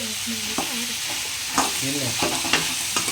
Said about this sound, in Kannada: ಇವಾಗ ಇದನ್ನ ಫ್ರೈ ಮಾಡಿಕೊಂಡು ಚೆನ್ನಾಗಿ ಅದು ಟೊಮೆಟೊಲಿ ಇರೋ ಸ್ಮೆಲ್ಲು, ಹಸಿ ಸ್ಮೆಲ್ ಎಲ್ಲ ಹೋಗ್ಬಿಟ್ಟು ಫ್ರೈ ಮಾಡಬೇಕು